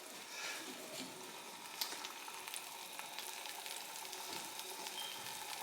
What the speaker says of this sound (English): once it comes to a boil, and it looks like it's about coming to a boil already